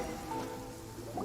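Rain downpour in the video game Genshin Impact, a faint continuous patter of falling raindrops over a soft wash of background ambience, heard briefly with no voices.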